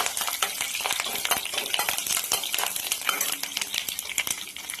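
Mustard seeds, curry leaves and green chilies tempering in plenty of hot oil for capsicum palya, dense crackling and popping with sharp spatters and spoon clinks against the pan, loud and close.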